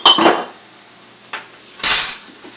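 A metal utensil clinks and scrapes against a pan while coriander and cumin powder are stirred into browned beef for masala beef steak: a quick cluster of clatters, a light tap, then another bright scrape, close by.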